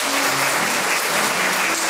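Applause from the audience at a forum held at a botanical garden, a dense, even wash of clapping that stays steady for the whole stretch.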